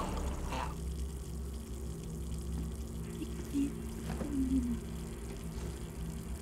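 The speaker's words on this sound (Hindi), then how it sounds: "पानी निकल रहा है" A steady low rushing of water running from a tap continues throughout, fairly close, with a few faint clinks and splashes over it.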